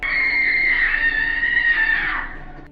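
A woman in a film screams in one long, sustained, loud cry that wavers in pitch and then fades out, with no speech over it.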